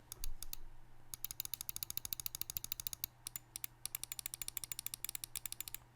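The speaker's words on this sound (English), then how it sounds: "Right and left click." Rapid bursts of crisp right and left button clicks on a Logitech G Pro X Superlight wireless gaming mouse, closely miked and fairly quiet, fired in quick runs separated by brief pauses.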